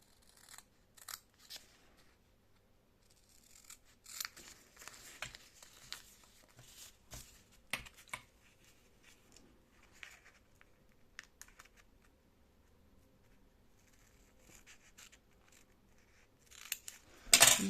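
Scissors snipping around a paper letter for a mini envelope embellishment, a series of close, quiet, irregular cuts and crisp paper rustles spread across the clip, with a louder handling clatter at the end.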